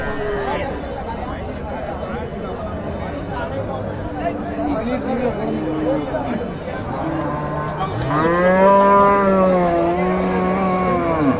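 Kangeyam cross cattle low with drawn-out moos at a busy cattle market, several calls rising loudly near the end, while crowd chatter and voices carry on throughout.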